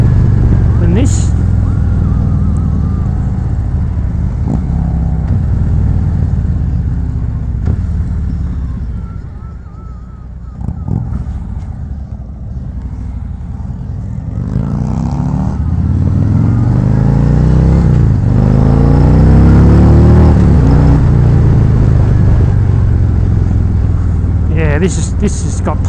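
A 2019 Harley-Davidson Road Glide Special motorcycle engine rumbles steadily while riding, loud and continuous with wind noise, swelling as it accelerates later on, with someone talking over it throughout.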